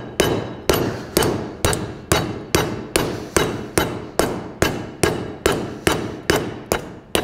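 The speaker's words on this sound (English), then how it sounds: "I'm going to start showing it with the sheet metal hammer that's got a curve to it." Steady, evenly spaced blows from a curved sheet metal shaping hammer ring against sheet metal, about two strikes per second, loud and close with a metallic clang.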